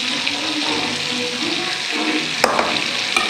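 Whole garam masala, cinnamon, cloves and cardamom, sizzling in hot oil in a pan for chicken stew, a steady close crackle with a couple of sharper pops near the end.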